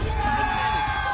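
A crowd at an esports arena during a Valorant Champions Tour Americas match between 100 Thieves and KRÜ Visa roars steadily as a dense wash of cheering, with a caster's voice running over it.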